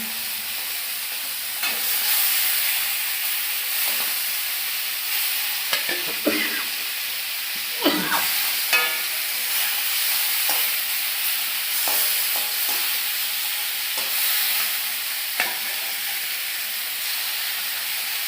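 Hilsa fish fries in a pan with a continuous bright sizzle and hiss, broken by occasional stirring scrapes and spattering pops, close and fairly loud, with no talk.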